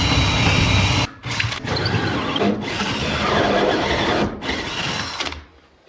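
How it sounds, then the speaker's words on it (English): A power drill bores a large hole through wood for an exhaust pipe during a building job, grinding loudly and steadily with two brief pauses where the bit stops and restarts. "Drilling a pretty big hole for the exhaust"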